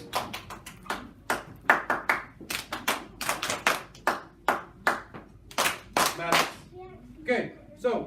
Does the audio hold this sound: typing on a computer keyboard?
no